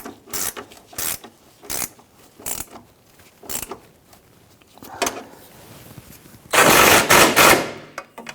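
Nuts on the fuel tank straps of a 1997–2006 Jeep Wrangler are tightened with a ratchet, giving rapid clicking bursts in uneven spurts, close and clear, ending in a longer run of fast clicks.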